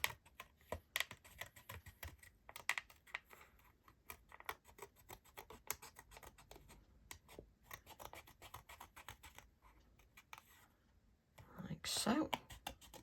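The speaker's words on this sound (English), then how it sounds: "So we'll cut this heart out." Scissors snip rapidly through paper to cut out a stamped heart shape, quiet close crisp clicks in an irregular rhythm, with soft rustling and a louder scrape near the end, while a person speaks softly.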